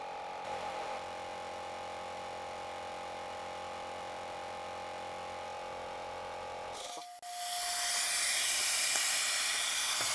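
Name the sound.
air compressor running with air hissing from open drain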